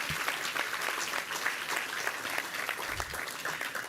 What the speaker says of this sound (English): if you'll help me give him a round of applause as well.